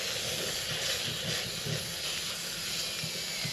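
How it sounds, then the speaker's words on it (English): Steady, loud hiss of steam runs without a break through the whole stretch, used to loosen a stubborn glued neck joint on a stringed instrument during a neck removal. "You also don't have to steam it the whole time."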